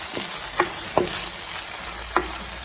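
Tomatoes fry in a pan for a Kerala-style fish curry, a steady close sizzle with several sharp scrapes of a spoon stirring at irregular intervals, with no talking.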